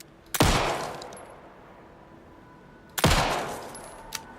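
Two loud, sharp gunshots in the video game Alan Wake 2, spaced a few seconds apart, each with a long echoing decay into quiet.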